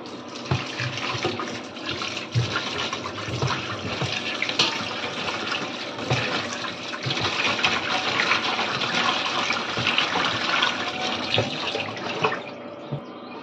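Tap water runs steadily while river fish are rinsed clean in a kitchen, a continuous splashing flow with occasional knocks and handling sounds, no talk.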